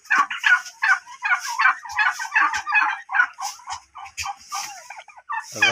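A flock of turkeys gobbles up close in their pen, a loud rapid run of repeated gobbling calls overlapping one another, ending with a brief rustle.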